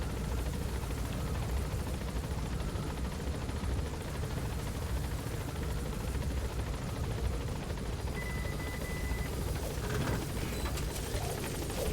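Helicopter in Metal Gear Solid 5: The Phantom Pain, a steady, loud rotor drone with mechanical whir holding constant throughout, no talk over it.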